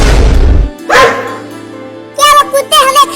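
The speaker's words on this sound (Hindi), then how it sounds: "में बहुत सारे कुत्ते घूम रहे हैं।" Cartoon dogs barking in a children's story, a short yelp early on followed by a burst of several quick, loud barks near the end, with background music running underneath.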